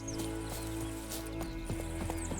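Horse hooves clip-clopping in The Witcher 3 video game, a quick run of muffled steps over a steady game hum, fairly faint and without talk.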